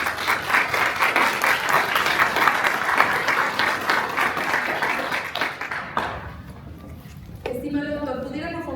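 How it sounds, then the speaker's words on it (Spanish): Audience applause at a book presentation about the 1946 massacre, loud sustained clapping for about six seconds that dies away, followed by a speaker beginning to talk. "Un fuerte aplauso, por favor."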